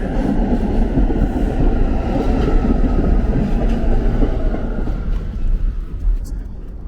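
An N subway train rumbles steadily into the 18th Avenue station in Bensonhurst, Brooklyn, with a low rolling roar of wheels on track that eases slightly toward the end.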